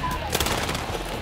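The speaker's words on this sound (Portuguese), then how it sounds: "Vou entrar na piscina e usar o taser." Taser fired by a player in the Battlefield Hardline video game, a short crackling electric burst with rapid clicks over a steady game-audio bed, lasting about a second.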